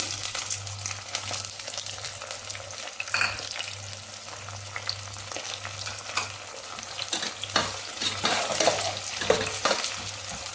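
Dried red chillies and curry leaves fry in hot oil for a homemade tomato chutney, with a continuous close sizzle. Scattered clinks and scrapes of stirring in the pan sound over it, and no one speaks.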